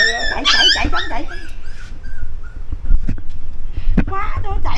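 A dog whimpers, yips and gives short barks close by, mixed with people talking.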